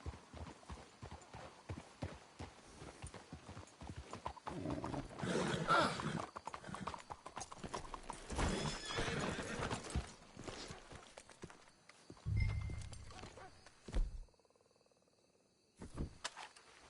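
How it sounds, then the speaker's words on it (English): Horses in Red Dead Redemption 2 clip-clop steadily on the ground at walking pace, with an occasional snort or whinny, moderately near; hoofbeats fade toward the end amid brief quiet. "Let's hitch the horses up ahead."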